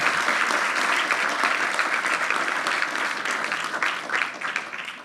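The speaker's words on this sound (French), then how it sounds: "Vous pouvez les applaudir d'abord." A dense, continuous round of audience applause at a public talk, steady and fairly loud, fading slightly toward the end.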